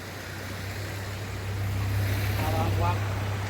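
Floodwater in a swollen river rushes beneath the Badlapur bridge as a steady, close, broadband roar with a low hum underneath, growing a little louder halfway through.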